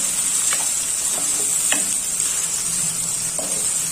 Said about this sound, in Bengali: তো পেঁয়াজটা লাল লাল করে ভেজে নেব।